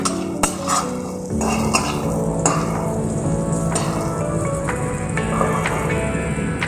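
Spice paste fries in oil for an egg curry with a continuous loud sizzle, while a metal spoon repeatedly scrapes and clinks against the pan and the hiss stays dense and close.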